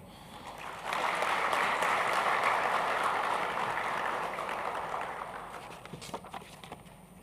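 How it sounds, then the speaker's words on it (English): An audience at a central bank monetary policy and financial stability presentation applauds, a dense sustained clapping that swells quickly, holds for several seconds, then thins into a few scattered claps. "Another round of applause for presentation"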